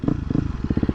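A 2023 KTM 250 XC-F dirt bike engine revs loud and close, its single cylinder firing in a rapid, throbbing pulse that picks up pace over about a second.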